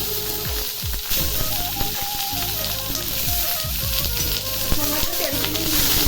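Pork sizzles and fries in a dry iron kadai with no oil, giving a steady, fairly loud hiss. Occasional scraping clatter runs through it and soft background music plays underneath.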